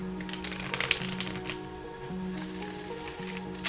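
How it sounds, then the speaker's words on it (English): Plastic playing cards are riffled and shuffled up close, a quick crisp fluttering in repeated bursts, with a faint hum underneath. "It has that plasticky cardstock feel, and it shuffles gloriously"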